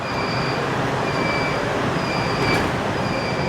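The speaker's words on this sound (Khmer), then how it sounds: "មកដល់នេះយើងដូរទិសដៅយើងម្ដងជិះរថភ្លើង" Rail train ride in Kuala Lumpur near Bukit Bintang, heard from inside a carriage: a loud, steady rumble of wheels on track with faint high metallic squeals recurring over the continuous roar.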